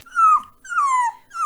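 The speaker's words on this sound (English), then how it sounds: "The cries got louder and louder, and William thought his head was going to e" A puppy whimpering and crying close by, three drawn-out high whines that slide downward in pitch, separated by short pauses, alone and fairly loud.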